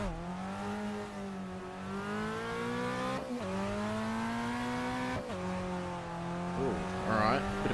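A classic Brazilian touring car in a Reiza racing sim, 118 horsepower, 900 kg, five-speed gearbox, drones steadily under load, with rising engine pitch broken by two quick gear shifts and a faint tire squeal near the end.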